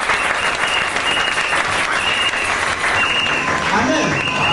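Church seminar audience applauding and cheering loudly, a dense, sustained wash of clapping with scattered shouts throughout.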